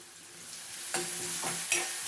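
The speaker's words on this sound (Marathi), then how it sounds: "माझ्या इथे भाजीला कांदा आवडतो त्यामुळे मी आता कांदा घातला" Onion stir-fried in a pan for a cauliflower and potato curry: a soft sizzle with two sharp scraping stirs about a second apart, close and brief, with no voices.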